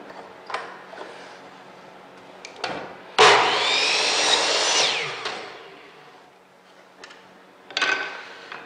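A miter saw cuts through wood in one loud, whining pass of about two seconds. Quieter clicks and handling knocks come before and after it.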